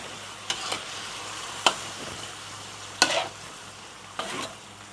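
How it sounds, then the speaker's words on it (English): Pork rendang cooking in a pot after hot water is added, with a continuous moderate sizzling bubble and a few sharp spoon scrapes against the pot. "I add a little bit of hot water to ensure the meat is fully cooked. Put it to boil."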